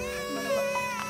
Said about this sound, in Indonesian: Namun langkahnya terhenti oleh suara tangis bayi di kejauhan.